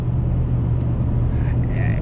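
A pickup truck engine drones steadily at low pitch while driving, a continuous close rumble with a slight rise in revs, with no talking over it.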